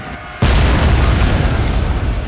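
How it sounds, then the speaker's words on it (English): A loud explosion in a Shogun 2 Total War video game battle at Fort Wagner, a sudden deep boom that rolls on as sustained rumbling after a quiet start. "I believe there stood one guy over there, right where the explosion happened."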